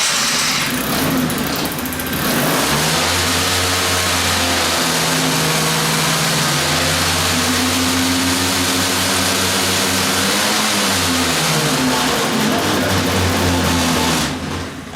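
A car engine, an Aldy Silver 2t with a charging fault, starts up and runs, a loud steady drone that shifts in pitch as it revs, close by and continuous with no speech.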